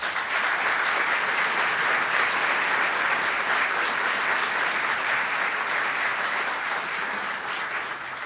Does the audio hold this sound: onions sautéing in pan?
no